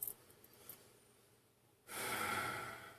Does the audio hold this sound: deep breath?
yes